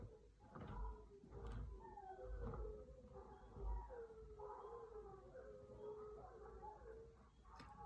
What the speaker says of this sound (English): I hear dogs howl every night for the past 2 weeks at least.